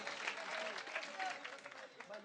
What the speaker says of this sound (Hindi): एक बार जोरदार तालियां बजाइए एकता आर्या